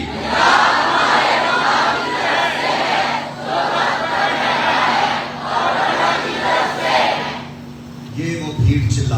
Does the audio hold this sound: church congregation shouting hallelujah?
yes